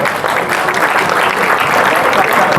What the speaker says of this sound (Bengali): সবাই জোর করে হাততালি দেবেন